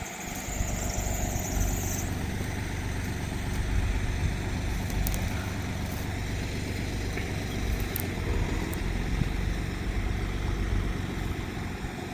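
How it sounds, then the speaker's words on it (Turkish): A tractor pulls and unrolls coiled water pipe in a field, its engine a steady low rumble and drone that runs throughout with faint squeaks and no talking. "traktörle hareket ettikçe borumuz açılacak."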